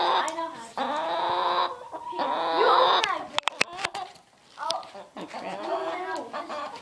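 Chickens on a farm cluck and squawk loudly in bursts while being grabbed, with people talking close by throughout.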